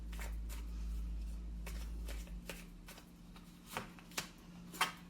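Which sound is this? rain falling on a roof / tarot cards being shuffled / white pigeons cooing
tarot cards being shuffled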